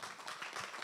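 Faint, dense clapping from a room of attendees at a board of directors institute session, brief and steady with no voices over it.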